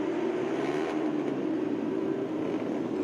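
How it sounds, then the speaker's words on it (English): A steady, droning roar of Superstock racing motorcycle engines on a warm-up lap holds at an even level throughout, heard from a short distance near the start line with no talking. "And hear the bigger engines."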